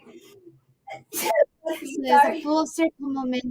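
A single sharp sneeze bursts out near the microphone during a morning radio show in the KROQ studio, followed by people talking.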